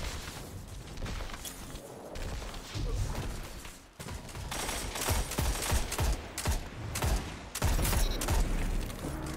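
Rapid gunfire in the video game Destiny 2, with dense bursts of automatic shots and thumping impacts that come in waves, pausing briefly before resuming loud and close.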